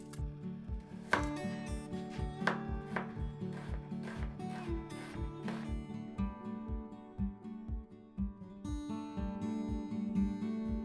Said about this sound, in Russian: Сразу же очищаю и режу перьями 2 луковицы